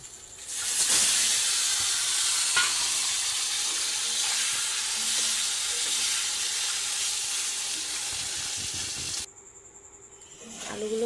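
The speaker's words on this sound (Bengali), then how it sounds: "আলুগুলোকেও ভেজে নেব" Long cut potato sticks fry in hot oil in a pan, giving a steady, loud hiss and sizzle that runs near-constant for most of the clip before dropping abruptly near the end.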